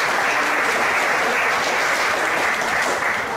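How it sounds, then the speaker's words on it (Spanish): Steady, dense applause from a poetry recital audience in Spanish, loud and sustained throughout with no voices over it. "Un aplauso, por favor"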